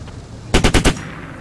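A short automatic burst of about four rapid gunshots from Squad cracks out loud and close, then stops abruptly, with quiet ambience before and after.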